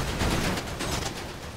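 Rapid gunfire in a GTA roleplay game as a riot vehicle gets shot up, a dense burst of overlapping shots, fairly faint and continuous throughout.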